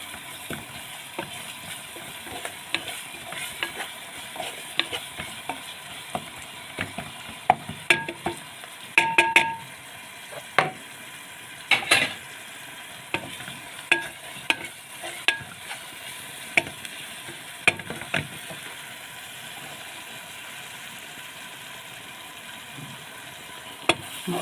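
Coriander and cumin fry in a pot for Egyptian koshari, a continuous close sizzle broken by repeated scraping and clinking of a spoon stirring against the metal, irregular strokes with no talk.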